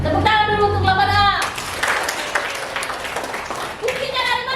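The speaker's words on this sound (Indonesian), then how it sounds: "Tepuk tangan dulu untuk 8A." Students of class 8A clap together in a short, lively round of applause lasting a few seconds, with a teacher's voice just before and after.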